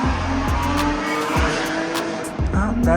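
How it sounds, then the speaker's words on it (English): A Porsche GT4 Cayman rips past a house at speed, its engine note rising and dropping in quick repeated gear-change sweeps, loud and close with tire noise over a few seconds. "a GT4 Cayman. I just ripped by my house."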